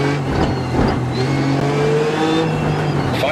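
Rally car engine in a racing game, a loud buzzing roar that rises and shifts in pitch as the car accelerates through the gears, close and continuous.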